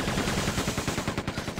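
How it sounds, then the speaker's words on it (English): Chain gun firing in Quake II, a rapid, steady stream of loud mechanical shots at an even fast rhythm, close and continuous with no talk over it. "might as well just use the chain gun"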